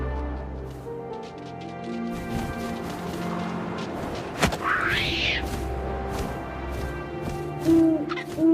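An owl hoots in the game What Remains of Edith Finch, a rising call standing out midway over a steady windy ambience with scattered thuds, moderately loud and without speech.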